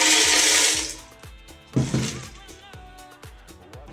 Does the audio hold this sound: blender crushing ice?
yes